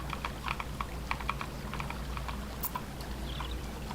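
A computer keyboard tapped in quick, uneven keystrokes of delete and backspace, close and crisp over a steady low room hum, with no voices.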